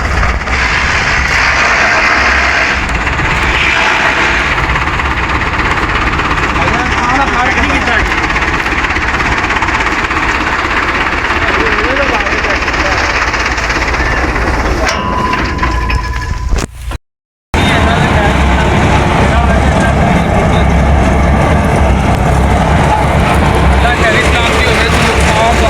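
A tractor engine drives a wheat threshing machine, a loud, steady mechanical roar with rattling vibration that runs continuously, breaking off with a brief cut near the middle, while people talk over it.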